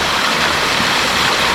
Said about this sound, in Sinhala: ඇල්ලෙන් එන වතුර පාර හරස් කරලා මේ වගේ තැනින් තැන හදලා තියෙනවා.